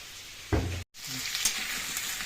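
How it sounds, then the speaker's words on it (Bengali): Potatoes frying in oil in a pan give a quiet, even hiss with a brief thump, a short dead gap, then the sizzle resumes with faint clinks, and no one speaks. "আলুটা দেখে নিই আলু ভাজাটা কতটুকু হলো"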